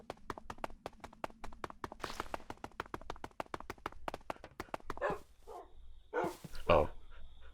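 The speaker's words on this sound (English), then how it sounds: "we live in a cave and the dogs just won't stop barking" Dogs in Minecraft bark in a rapid, regular series of short yaps, followed by a few louder, more scattered barks and thumps toward the end.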